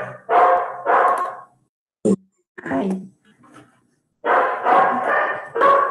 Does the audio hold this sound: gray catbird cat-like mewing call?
no